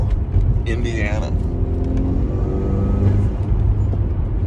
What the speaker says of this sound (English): Driving the GTI.